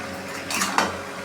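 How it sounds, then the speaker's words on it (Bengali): Spices get stirred in a metal cooking pan with a utensil, giving a short burst of scraping and a light metallic clink, close and clear. "এবার এটা দিয়ে আমরা ভালো করে এটাকে একটু নাড়িয়ে নেব"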